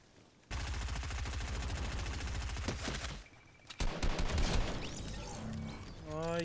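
Shotgun fire in the Fortnite video game comes as dense, loud volleys of rapid shots, a brief lull, then another burst of firing, ending with fainter tonal game effects.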